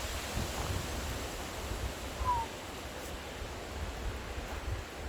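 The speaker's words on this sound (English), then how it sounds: "It's a nice day though. Nice and windy." Wind blows steadily through a wooded campsite at George H. Crosby State Park in June, a soft, continuous broadband rush with faint gusts and light rustling.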